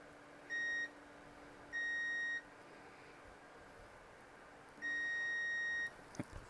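A new multimeter gives its continuity beep as the leads touch, three loud, steady electronic tones of varying length, ending with a light click over faint room noise.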